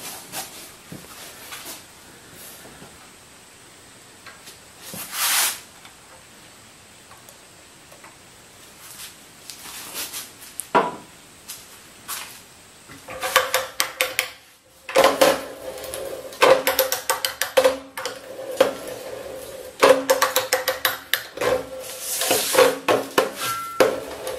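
A hand pipe threader for 21 to 60 mm pipe cutting threads on oiled pipe: repeated scraping, ratcheting strokes at an uneven pace, sparse at first and then denser and louder in the second half, with no talk.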